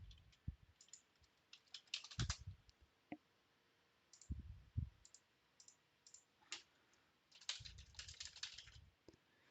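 Keyboard typing in bursts of quick clicks with pauses between, fairly faint and close, with no talking.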